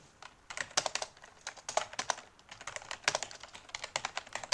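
Typing on a computer keyboard, heard as quick, irregular clicking keystrokes in short runs with small pauses, close and fairly quiet, with no talking.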